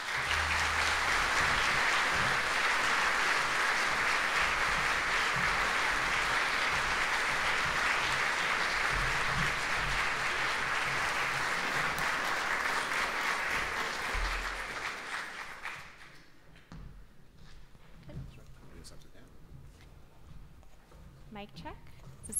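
An audience applauds loudly and continuously to welcome David Frum and Robin Ivory at an evening event, the clapping fading after about fifteen seconds into quieter room noise and shuffling.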